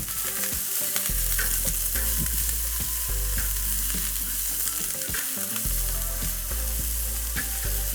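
Broccoli and ginger sizzle loudly in a hot pan for veggie fried rice, a continuous frying hiss with repeated scraping knocks from stirring.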